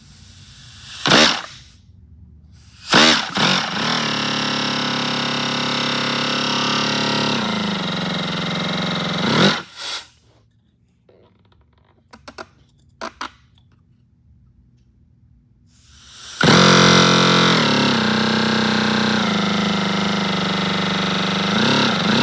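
A 20cc miniature inline twin engine runs loudly in bursts, sharp pops at first, then a sustained roar that cuts out into near silence with faint clicks before starting up again loud and near.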